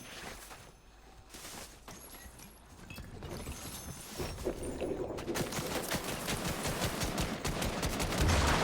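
Rapid gunfire bursts from a video game play on without pause, loud and dense, with sharp crackling volleys that swell in intensity toward the end.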